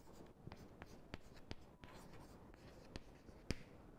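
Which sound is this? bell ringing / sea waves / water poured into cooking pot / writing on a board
writing on a board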